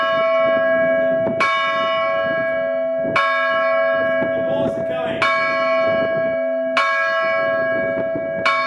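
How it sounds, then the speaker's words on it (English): A large 231-year-old cathedral bell in Lisbon, Portugal tolls loudly and repeatedly, about every one and a half seconds, each strike ringing with a long, rich metallic hum that overlaps the next. "I do quite enjoy ringing bells, particularly ones which are 231 years old."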